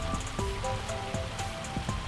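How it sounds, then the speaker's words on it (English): Heavy rain in the Farming Simulator 25 game on a pig farm in the German countryside, a steady wash of falling water with scattered sharp drop impacts and splashes, moderately quiet and with no voices. "Wow, it's raining really hard."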